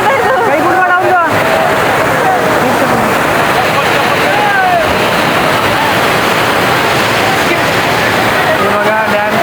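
Monsoon overflow rushes over Bhushi Dam at Lonavala, a loud, unbroken roar of pouring water that masks the people talking and calling nearby throughout.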